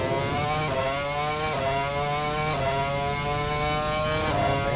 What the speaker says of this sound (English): Oh man, listen to that engine.